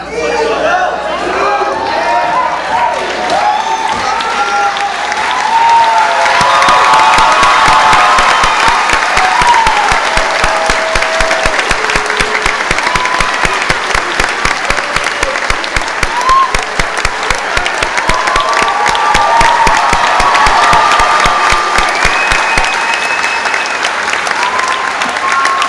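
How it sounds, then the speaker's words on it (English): A high school graduation audience claps and cheers for the class, a loud, sustained burst of applause with shouts and crowd chatter mixed in, swelling and continuing for a long stretch. "One more round of applause for the entire class"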